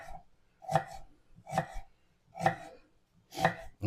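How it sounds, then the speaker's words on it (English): A knife chops onions on a cutting board with four steady, evenly spaced thuds about a second apart, close up and clear, with no talking. "I was going to cut some onions for you."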